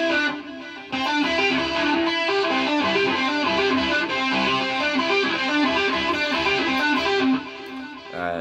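A distorted electric guitar plays the verse riff of a song, a loud, close, rhythmic pattern of chugging notes that runs steadily before cutting off near the end.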